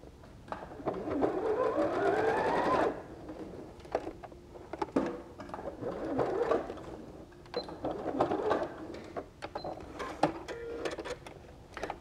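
A sewing machine stitches quilt patches together in pairs, with close mechanical whirring runs of rapid stitching broken by pauses and small clicks and handling noises, fairly quiet.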